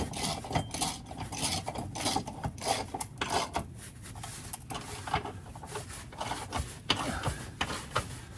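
Close, busy mechanical rasping and clicking with uneven rhythm fits a socket wrench ratcheting during a sway bar install on a VW Vanagon T3, with no voices.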